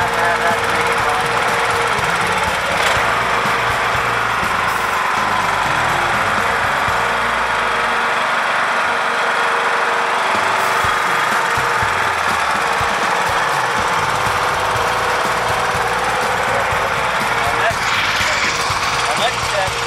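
A lawnmower engine modified to run on fuel vapor drones loudly and steadily with a rough, knocking rattle throughout, close by and unbroken.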